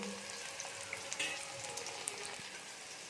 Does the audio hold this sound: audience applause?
no